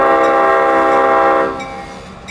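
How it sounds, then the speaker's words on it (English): A Leslie air horn on the Clinchfield 800 diesel locomotive sounds one loud, sustained chord-like blast for about a second and a half, then cuts off and leaves rumbling train noise. "Here's where I noticed the 800 had one of those Leslie horns."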